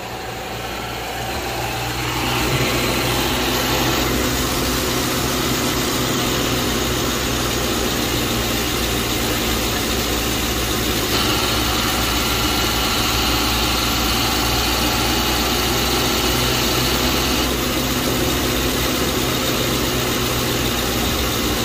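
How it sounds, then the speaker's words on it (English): A 2011 Lincoln Town Car idles with its AC compressor engaged, producing a steady, loud engine drone and a constant mechanical whine that runs unbroken throughout, with no talking. "The compressor does not sound happy at all."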